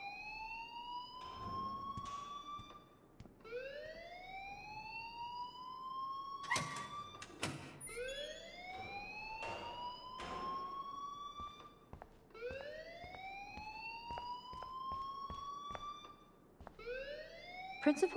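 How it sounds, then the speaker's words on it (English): A school alarm rings in Life is Strange, a looping electronic siren-like wail that rises in repeated sweeps, loud and continuous, with a few clunks and door-like bangs in between. "please turn off that alarm since that's your job"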